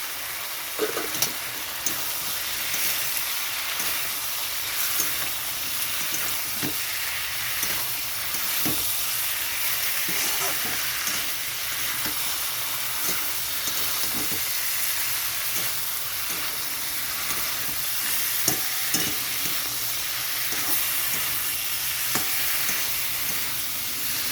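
Fried potatoes stirred into a prawn curry in a pan, with a continuous loud sizzle and hiss and irregular clinks and scrapes of the spoon throughout.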